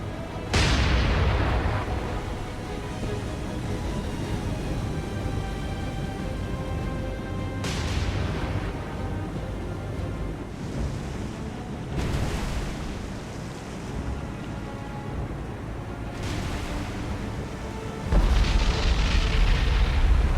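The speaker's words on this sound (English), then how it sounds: "I think that was a magazine explosion." A heavy explosion booms out as a warship's magazine detonates, followed by further deep blasts and rumbling, with a loud burst at the end; naval battle video game audio with no speech.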